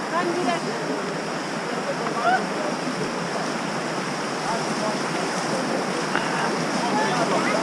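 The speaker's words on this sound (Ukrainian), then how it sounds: "Сьогодні ми в Карпатах на річці Чорний Черемош." Black Cheremosh mountain river in the Carpathians rushing steadily on a rainy day, a dense, continuous broadband roar of churning water filling the scene at close range, with no talk over it.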